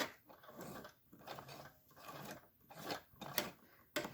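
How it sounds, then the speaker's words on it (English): A sewing machine runs in short, faint bursts of rhythmic whirring and stitching along a patio cushion seam, stopping and starting several times with quiet mechanical clicks between, alone without talk. "I still need to go one more stitch here."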